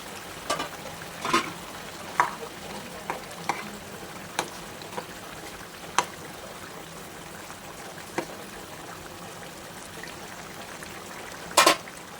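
Fried pointed gourd cooks in a pan with a low, steady sizzle, broken by scattered sharp clicks and knocks from a spoon stirring, with a louder scrape near the end; no one speaks.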